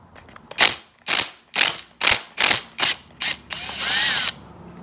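A ratchet wrench loosens the cam sprocket bolt on a Honda 400ex ATV engine: eight or so close, sharp bursts of rapid clicking in steady rhythm, ending in a longer ratcheting run.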